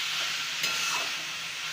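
A pan of frying cucumber pieces sizzles steadily up close, with one brief metallic clink partway through.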